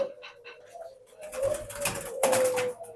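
Red doves in an aviary coo with low, sustained hums, joined by brief rustles and a few louder bursts of movement nearby, with no talking.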